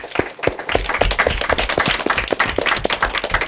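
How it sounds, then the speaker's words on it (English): A small group applauds at the close of an elementary school derby match, giving loud, close, somewhat sparse clapping with distinct individual hand claps in an uneven rhythm. "I like to hear a big round of applause for yourselves."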